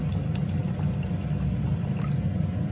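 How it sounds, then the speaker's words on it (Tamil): Water pours into a boiling pot while potato rasam is being cooked, a steady liquid trickle and splash running continuously under a low bubbling rumble, with no voice. "இப்போ தண்ணியை விடுவோம். தண்ணி தேவையான அளவு விடலாம்."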